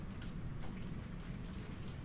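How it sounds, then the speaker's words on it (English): Rain falls steadily outside a window at night, a soft continuous patter and hiss with no talking, fairly faint and even throughout. "Okay, it's rain. It's definitely rain."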